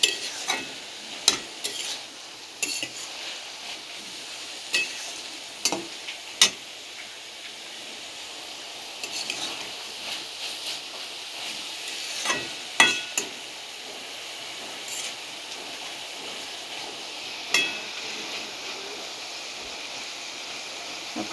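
Water lily stems being stirred and cooked in a pan with prawn and coconut paste, a soft steady sizzle broken by scattered sharp clinks and scrapes of a spoon, no voices.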